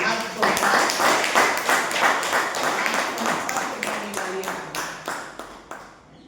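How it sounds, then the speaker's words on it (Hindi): An audience at a Brahma Kumaris Om Shanti centre gathering claps in a steady, rhythmic group, the beats strong and close at first, then thinning and fading toward the end. "पर उसके लिए भी सब ताली बजाओ"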